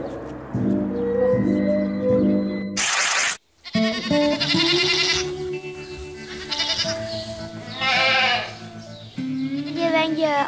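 Goats bleat over and over on a Frisian farm with about 400 goats, loud and close, their wavering cries overlapping with a sudden burst of noise partway through.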